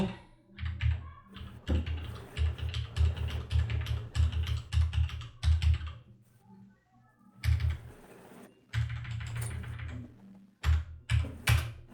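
Code for ArcPy being typed on a computer keyboard: quick clattering keystrokes in dense bursts, broken by a couple of short pauses, close and clear with no talking.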